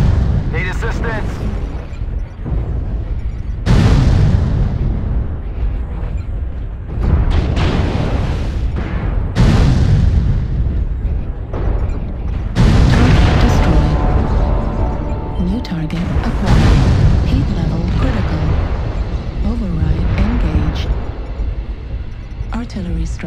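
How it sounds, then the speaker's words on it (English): Repeated heavy artillery-strike explosions in a combat video game, deep booming blasts arriving every few seconds with rumbling tails, loud and close, while a synthetic voice calls out status alerts between them. "Artillery strike activated."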